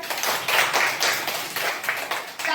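A group of students claps for a first-place prize winner at a school Teacher's Day celebration. The applause is steady and fairly close, lasting a few seconds with no talking.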